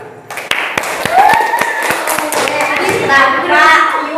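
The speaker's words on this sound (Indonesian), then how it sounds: "Tepuk tangan buat Rehan" Classroom applause for a student during a teacher's coaching session, a run of sharp claps under steady talking and cheering voices that fill the room.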